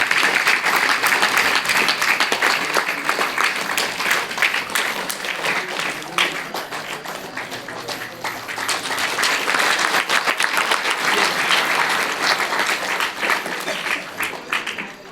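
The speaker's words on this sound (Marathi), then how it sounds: "आपलं टाळ्या वाजवायचं काम आहे" Sustained crowd applause at the closing thank-you ceremony on the final day of a multi-day pilgrimage walk (padyatra), dense steady clapping from many hands, loud and continuous throughout.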